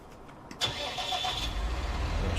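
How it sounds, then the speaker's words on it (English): Tractor engine in Farming Simulator 19 cranking over and catching, a brief starter whir followed by a steady, rising idle rumble, close and loud with no talk. "We'll get the tractor started here."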